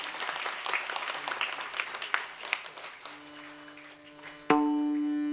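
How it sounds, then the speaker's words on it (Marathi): An audience at a Marathi kirtan claps loudly for several seconds before the applause fades, and a sustained harmonium-like tone with a struck note takes over at the end. "जोरदार टाळी वाजवा."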